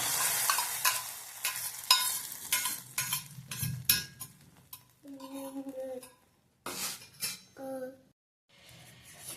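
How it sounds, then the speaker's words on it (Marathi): Ghee-roasted cashews and almonds go into thick rice kheer, with repeated spoon scrapes and clinks against the pot in uneven bursts, close and fairly loud, and a few short tonal sounds near the end. "काजू बदाम तुपात छान भाजलेले आपण ह्यात आता खिरीत घालून घेऊया।"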